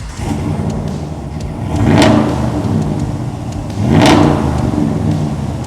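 A Ram Rebel pickup truck engine with a performance exhaust idles with a deep, rumbling note, surging twice in loud revs before settling back to a throaty idle.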